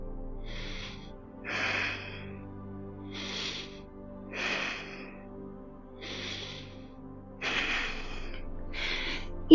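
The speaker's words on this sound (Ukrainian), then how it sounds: "Відпочиньте декілька вдохів, видохів тут." During a medium-level fitness yoga session, a person rests on the mat and breathes heavily. About eight loud, rhythmic breaths, huffing and snort-like, come at steady intervals with quiet pauses between.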